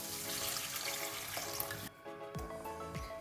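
Water poured onto rice in a cooking pot for Arabian Buhari rice: a soft, continuous splashing pour, faint and close, that breaks off near the end into a few brief gurgles and drips.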